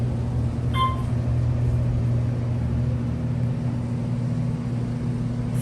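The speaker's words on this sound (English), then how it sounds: "The fan is loud on this one." Ventilation fan in an Otis Series 2 traction elevator car, a loud, constant whirring drone with a steady low hum and broadband hiss, unchanging throughout, with one brief faint chime-like tone early on.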